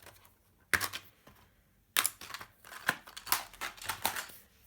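Scissors trimming card stock for a handmade card, a series of crisp, close snipping cuts in irregular bursts with short quiet gaps between them, no talking.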